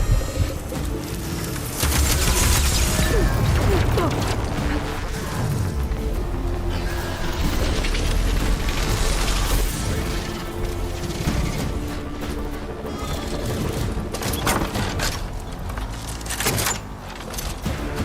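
Explosions and heavy impacts in Horizon Forbidden West: loud booms, crashes and bursts of debris over a dense battle soundscape, recurring across the stretch with no voices.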